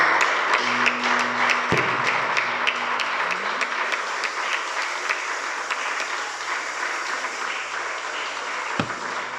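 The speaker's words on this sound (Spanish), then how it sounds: "puede dar un aplauso al Señor Jesús." Sustained applause from a church congregation at a Spanish-language worship service, a dense wash of many hands clapping steadily for several seconds at a consistent loud level, with a brief sustained tone near the start.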